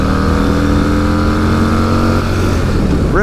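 Harley-Davidson Fat Boy engine revving hard in second gear up to the rev limiter, a loud, close, sustained roar with a steady tone before it bounces off the limiter near the end.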